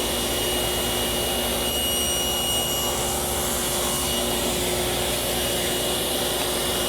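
A table saw cuts a quarter-inch-deep pass through a piece of wood on a miter gauge, a loud continuous whine and rush of blade and motor that holds steady throughout.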